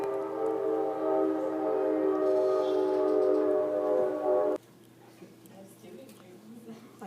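A train passes outside, a loud sustained horn-like tonal drone that stops suddenly when a door shuts, leaving a quieter, muffled room with faint rumble.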